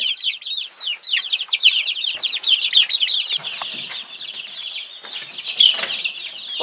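Chickens and young chicks in a poultry yard cluck and peep continuously in a busy, close chorus of overlapping calls with no voices.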